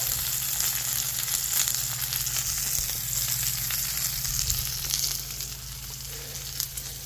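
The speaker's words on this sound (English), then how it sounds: "shallow deep fry" Chicken and vegetables shallow-frying in oil in a pan, a continuous loud sizzle and crackle throughout, easing slightly near the end.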